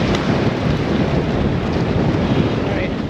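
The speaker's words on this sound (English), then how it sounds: "it is crazy windy" Strong wind roars and buffets continuously, a loud broadband rush with no letup.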